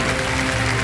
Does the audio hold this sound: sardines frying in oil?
no